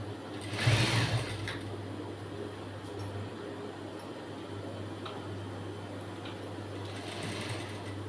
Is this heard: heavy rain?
no